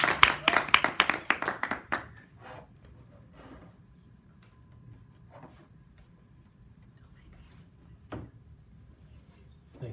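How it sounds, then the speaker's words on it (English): Open mic audience clapping, a brief burst of sharp claps for the first two seconds that quickly fades, followed by a quiet room with a few scattered knocks and faint shuffling. "and let's clap."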